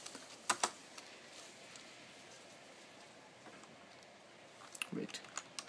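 Faint, sparse keystrokes on a computer keyboard, a quick pair of taps early on, then near silence, then a short cluster of clicks toward the end, all soft and close.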